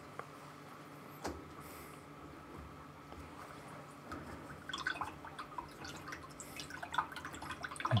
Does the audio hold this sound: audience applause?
no